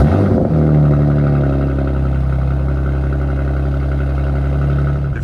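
BMW G87 M2 running on E30 fuel with a CS tune, a steady loud engine drone with a strong low hum holding throughout, close and without talk.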